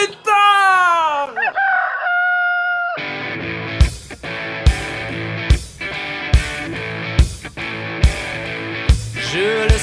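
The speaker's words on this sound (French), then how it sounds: "le coq se prépare à chanter son couplet" A rooster lets out a long, loud crow near the start, followed by a rhythmic musical backing with regular sharp beats in a children's story song.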